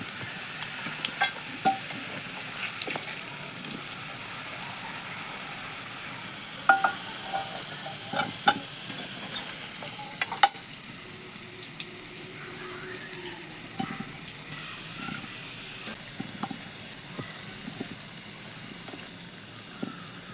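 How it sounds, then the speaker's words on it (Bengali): New potatoes fry in hot oil in a pan and are lifted out. A soft, steady sizzle runs under scattered light clinks and scrapes of a spatula against the pan. "আলুগুলো আমি ভেজে নিয়েছি, তুলে নেব।"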